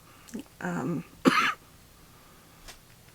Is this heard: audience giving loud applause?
no